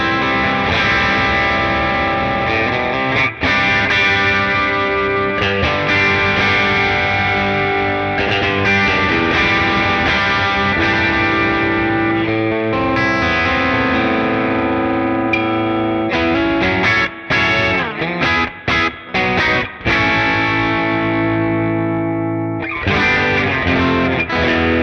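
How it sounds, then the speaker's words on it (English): Harley Benton DC-Junior single-pickup electric guitar played with crunchy, distorted tone, sustained chords and riffs with brief choppy stops near the end, loud and close with no talking. "let's check out some crunchy tones and see what the guitar sounds like"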